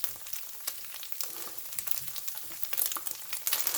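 Ketchup and mustard being stirred into a frying pan: a steady, close crackling sizzle with soft scraping and clicking from the stirring, slightly louder toward the end.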